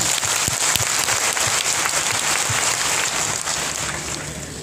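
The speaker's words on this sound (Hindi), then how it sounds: "अपने लिए जोरदार तालियां होनी चाहिए।" A hall audience at a motivational business talk breaks into loud, sustained clapping that holds steady and fades gradually toward the end, with no voices over it.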